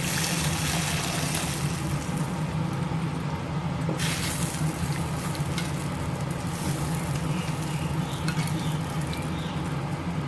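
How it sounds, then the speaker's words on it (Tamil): Okra kara kuzhambu, a tamarind-based Tamil curry, simmering in a pan after water is added, giving a soft, steady sizzle and bubbling hiss with faint clinks, close by and without talk. "குழம்புக்கு தேவையான அளவு தண்ணி சேர்த்துக்கலாம்."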